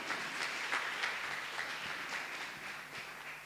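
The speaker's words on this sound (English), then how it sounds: "Let's clap for her as she comes to address us." Faint, distant applause for a school captain at a prize-giving ceremony, a thin, steady patter of clapping with a few sharper claps, heard from far back in the gathering.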